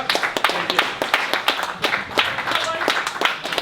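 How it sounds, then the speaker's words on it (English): An audience at a Boston DevOps meetup applauding, a short burst of dense, close clapping with a voice speaking over it. "Give a round of applause"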